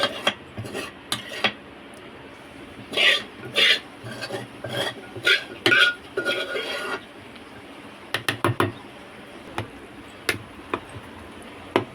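Cooked gongura (sorrel leaf) chutney stirred in a pan, a run of close scraping and clinking utensil strokes in bursts over several seconds, then a few sharp isolated taps, with no talk.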